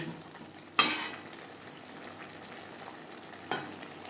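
Spice masala for chana masala fries in a pan over a medium-low flame with a soft, steady sizzle, broken by two sharp scraping stir strokes, near and alone without talk.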